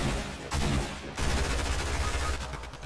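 Rapid bursts of Fortnite gunfire, dense overlapping shots in two loud volleys separated by a brief gap, close and sharp with no voices over them.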